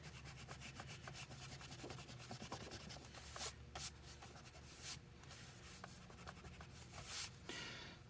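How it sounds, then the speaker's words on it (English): A pencil eraser rubs over bullet journal paper in a soft, steady scrubbing, faint and close, with a few slightly louder scrapes along the way. "Just go in and erase that real quick."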